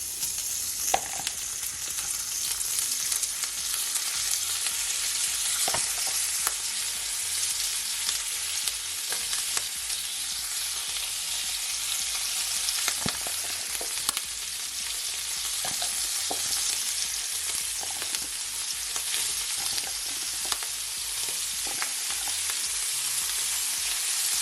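Smoked sausages fry in a pot in a smoky kitchen, a steady loud crackling sizzle running throughout with scattered sharp pops and a few utensil scrapes.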